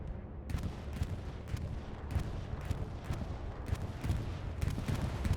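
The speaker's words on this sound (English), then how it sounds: "I hear the bombing run." A bombing run in the video game Squad brings a continuous rumble of distant explosions and gunfire, with repeated muffled blasts landing in a loose rhythm under a dense, noisy battlefield bed and no clear talking.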